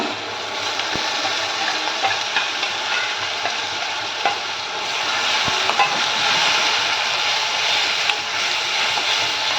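Tomato paste with curry leaves frying in a pan, a steady dense sizzle throughout with occasional stirring clicks and scrapes, close and continuous with no voices.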